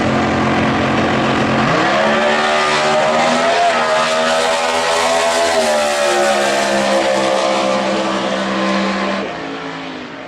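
A Super Stock drag race car, the Cobalt, roars through a practice run at the Winternationals drag strip, its loud sustained engine note rising in pitch across the pass before easing off near the end.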